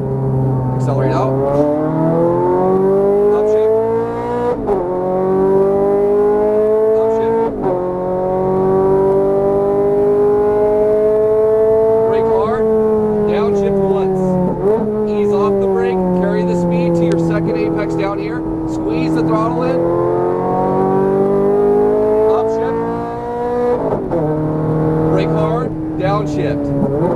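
Ferrari 430 Scuderia engine revving hard on a race track, loud and close, pitch climbing through gears with shifts between pulls, while a driving instructor talks over it.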